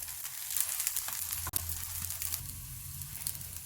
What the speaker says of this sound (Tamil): மீடியம் ஃப்ளேமில் வச்சுட்டு கோல்டன் ப்ரௌன் கலர் வர வரைக்கும் நல்லா ரோஸ்ட் பண்ணி எடுத்துக்கலாம்.